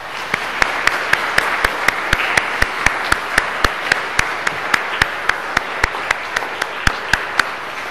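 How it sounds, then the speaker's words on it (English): A church congregation at a morning Mass applauds its teachers in a steady, even clapping that fills the room. A few sharper individual claps stand out at a regular pace across the whole span. "How about a round of applause for all our teachers?"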